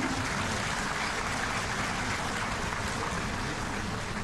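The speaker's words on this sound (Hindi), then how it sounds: "एक बार पुनः सभी के लिए करतल ध्वनि हम सभी की ओर से" Sustained, dense applause from a large audience at a national cleanliness survey awards ceremony in Delhi, loud and steady throughout with no pauses.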